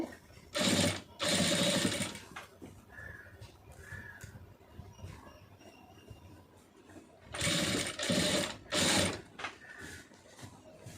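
A sewing machine stitches cloth piping in short, loud rattling bursts, one pair early and another pair later, with quiet handling gaps between them and no talking.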